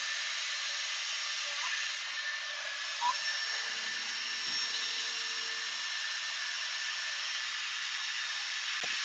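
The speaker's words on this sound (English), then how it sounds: "Drill the rest of the hole." A steady, high-pitched whine of a drill boring a hole with a 31/32-inch bit runs continuously at moderate volume, with a few faint knocks and clicks along the way.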